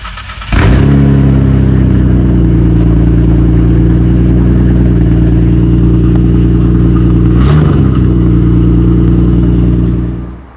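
A sports car engine with an aftermarket Tomei exhaust revs sharply, holds a loud, throaty drone from its exhaust, then blips again before trailing off; close and powerful.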